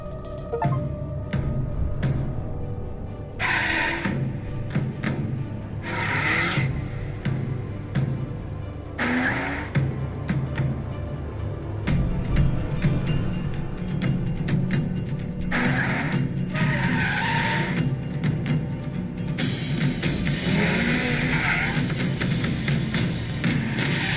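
Car driving in the video game Alan Wake: a continuous engine roar with grinding, rumbling mechanical texture and occasional knocks, loud and sustained for the whole stretch with no talking.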